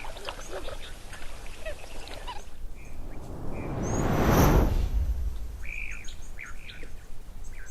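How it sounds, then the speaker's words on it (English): Egyptian geese call at a waterhole, a few honking, squawking notes in the distance, while a broad swell of wind or passing noise rises and falls in the middle. "Oh, lovely, some Egyptian geese,"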